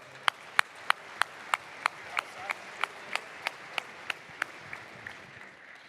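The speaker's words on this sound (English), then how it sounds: "clap that up" Audience clapping in unison at a large youth conference hall, a steady rhythmic beat of about sixteen sharp claps, moderately loud with a faint crowd murmur underneath.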